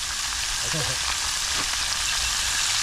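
Fish fries in a kawali pan with a loud, continuous sizzling hiss close up, and a brief murmur of voices breaks in early on.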